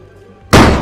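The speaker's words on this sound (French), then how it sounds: "Est-ce que c'était un coup de feu?" A single sharp, loud gunshot bursts out after a quiet moment inside a restaurant and decays briefly, heard close by indoors.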